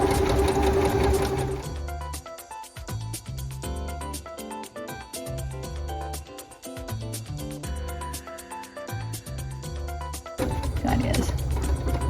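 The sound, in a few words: sewing machine stitching and back stitching a jewelry pouch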